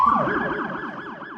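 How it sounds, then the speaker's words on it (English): A police car siren during a police department vehicle demonstration gives a loud, continuous wailing tone that sweeps up and down in a steady rapid cycle, with no other sounds. "This is the siren. They can make different sounds."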